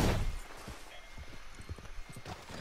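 Horse hooves clip-clop at a steady walking rhythm in the video game Red Dead Redemption 2, moderately faint after a brief loud rush of noise at the start, with no talk over them.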